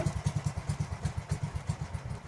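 A small engine of a diving compressor on a raft runs at idle, a steady rapid chugging with regular low pulses, close and alone with no voices.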